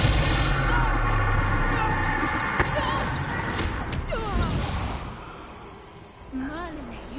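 A fire spell is cast in Hogwarts Legacy amid dense, loud layered game sound, with sharp bursts and a crackling blast standing out over a continuous roar.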